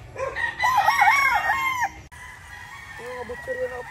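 A rooster crows loudly nearby, followed by softer clucking and another bird call in the background.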